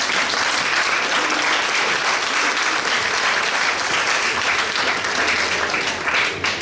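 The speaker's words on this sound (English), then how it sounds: "Give yourselves a round of applause." A crowd at a Lincoln County commissioner candidates' debate applauds itself, with thick, continuous clapping throughout, loud and even in level.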